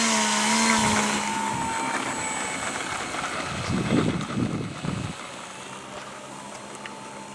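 A Cirrus airplane takes off with half flaps, a steady propeller engine drone inside the cockpit with a rising surge partway through, continuous and moderately loud.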